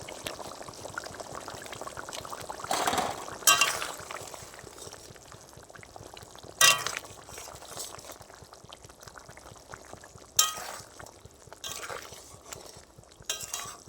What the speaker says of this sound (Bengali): মাছটা দিয়ে দিয়েছি, আর কিছুক্ষণ ফুটিয়ে নেব।